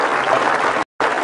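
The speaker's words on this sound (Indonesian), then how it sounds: "kasih tepuk tangan dulu buat mereka" Audience at an inspirational talk clapping briefly, a dense burst of applause cut by a short silent gap before resuming.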